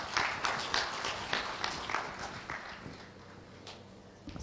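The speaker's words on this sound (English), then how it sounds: "if we could have another round of applause" An audience at a study-abroad fair claps in a sustained round of applause, a crowded patter of many hands that slowly thins out toward the end.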